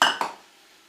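Diced tomatoes tipped into a pot of gameday chili, a quick metallic clank of can or spoon against the pot followed by a second lighter knock, then a fading ring and near silence.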